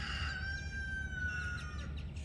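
A single drawn-out rooster crow rings out over a loud, rumbling background, fairly close and lasting about two seconds.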